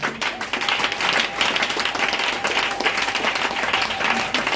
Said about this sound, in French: Est-ce que tu peux l'acclamer ce matin?